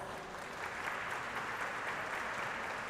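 An audience at a solemn session for the Zumbi dos Palmares diploma claps steadily, even applause heard at a modest level from a distance.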